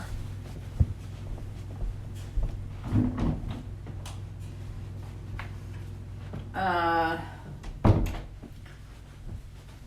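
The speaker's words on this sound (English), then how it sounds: "let me just close the door" A door swings shut indoors with a soft thunk and a brief creak, then a firmer knock as it closes, set against a steady room hum.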